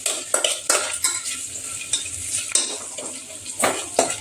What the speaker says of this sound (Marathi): थोडंसं कांद्याला लालसर होऊन द्यायचं आणि मग मसाले टाकायचे.